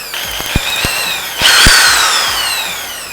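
A Bosch GSB 570 compact impact drill runs in hammer mode, giving a loud, close whining motor with a rising pitch and a rough, buzzing rattle, broken by a few sharp knocks at the start.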